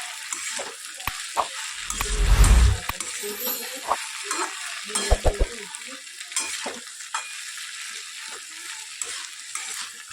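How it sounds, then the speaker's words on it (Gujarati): Fried potatoes stirred into half-cooked okra in a pan: a spoon scrapes and clinks against the pan in short bursts while oil sizzles softly underneath, close and clear with no talking. "જે આપણે બટાકા તળીને રાખ્યા હતા એ અંદર નાખી દઈએ એટલે બંને સરસ મિક્સ થઈ જાય."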